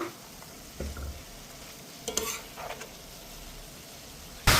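Garlic and vegetables for a sausage, apple and walnut stuffing cook gently in a pan with a low, steady sizzle. Brief stirring scrapes and light clinks of a utensil against the pan break through now and then.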